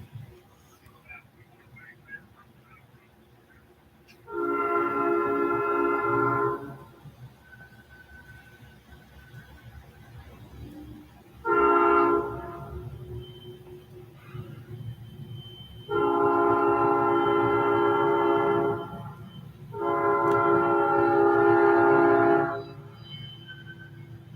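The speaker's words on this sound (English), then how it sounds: "It's another train. Must be NS." A passing Norfolk Southern freight train sounds its horn in four long, loud blasts with short gaps between them, over a low rumbling background.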